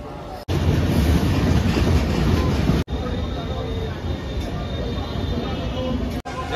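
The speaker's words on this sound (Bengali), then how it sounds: "এখনো পর্যন্ত আমাদের এই ট্রেন খুব ভালোই চলছে" A local train on the Howrah to Digha line rumbles along the rails in a loud, steady, close roar with faint clatter. Two brief breaks interrupt the sound.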